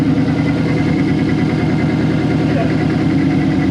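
A Toyota Hilux with a 1UZ engine, swapped from supercharger to a T88 turbo, runs at a steady, loud idle. The close, continuous rumble holds throughout without a rev change.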